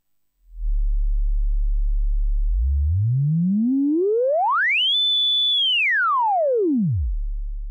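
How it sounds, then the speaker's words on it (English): A Behringer 110 synthesizer's filter self-oscillates at full resonance as a pure sine tone, humming low, then gliding smoothly up to a high, piercing whistle, holding, and sweeping back down to a low drone. "we can use this filter also as a sine wave oscillator with full resonance setting"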